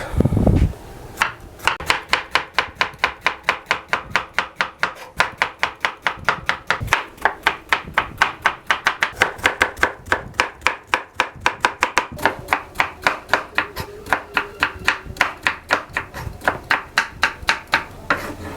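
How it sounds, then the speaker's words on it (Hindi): Steady rapid knife chopping of bitter gourd on a board, dozens of sharp evenly spaced taps continuing without pause, close and loud, no talking. "तो अब इसको हम काट लेते हैं बारीक बारीक।"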